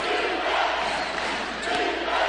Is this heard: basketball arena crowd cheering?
yes